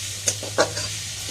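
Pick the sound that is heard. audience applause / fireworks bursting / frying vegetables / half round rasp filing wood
frying vegetables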